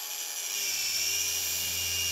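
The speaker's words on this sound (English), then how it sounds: "Move the driving pad over the whole area so that no ridges arise." Sander fitted with a Trizact fabric disc works a stainless steel weld on square tubing, a steady high-pitched whine that starts up and then holds constant and loud with a low hum beneath it.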